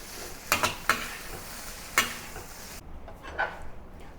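Garlic and scallion stir-fry in a wok, a gentle sizzle broken by a few sharp scraping strokes of the spatula before the sound drops away.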